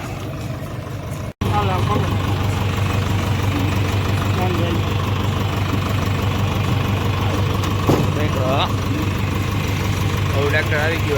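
A JCB backhoe's engine runs on a farm in a loud, steady idle with a low rumble throughout, after a brief cut near the start, while people talk nearby.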